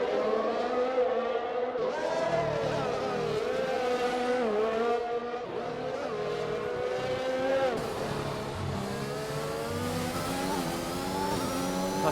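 Race cars roar through a racing video game, including a Mercedes running wide onto the kerb near a concrete wall; several engines howl continuously with rising and falling pitch, loud and close throughout, with no talking.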